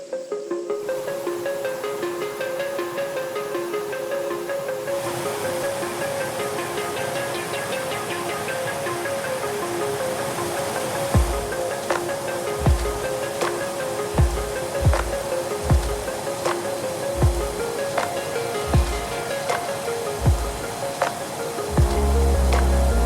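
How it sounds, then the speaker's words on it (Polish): Tiu Kelep waterfall on Lombok, Indonesia, roars as a steady, dense rush of falling water, with a series of sharp thumps nearby in the second half. "na początek ten mniejszy wodospad Tiukelap"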